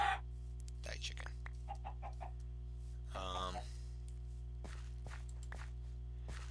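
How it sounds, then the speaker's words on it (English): A chicken in a blocky survival video game gives short clucks and squawks amid soft footstep clicks and a low steady background hum, with a louder burst of squawking partway through; a person talks over part of it. "Die, chicken."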